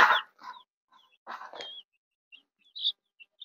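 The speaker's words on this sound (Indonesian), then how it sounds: "Satu pasang ayam ini." A pair of chickens, a rooster and a hen, give close, soft clucks and short squawky calls in scattered bursts with quiet gaps between them.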